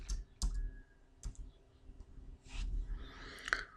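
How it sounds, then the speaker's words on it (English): Sparse keystrokes on a computer keyboard while entering a formula in a formula editor, a few separate clicks and short bursts, close and fairly quiet, with no voice. "let's start typing."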